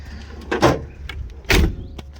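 The door of a Volvo 164 creaks twice, each a short groaning squeak a second apart, close by against a low background hum.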